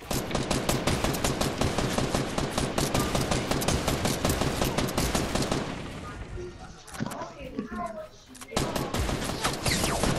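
Rapid automatic gunfire in the game Fortnite, loud close bursts firing in a dense continuous stream for several seconds, then a brief lull with scattered sounds before another sharp shot.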